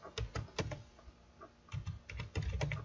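Brisk bursts of keystrokes on a computer keyboard, clustered clicks with a short pause in the middle, close and clear with no talking.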